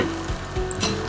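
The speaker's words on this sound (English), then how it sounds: "put some chopped garlic. Saute some garlic." Chopped garlic sautés in oil in a pan, giving a brief steady sizzle with a faint scrape or two of stirring.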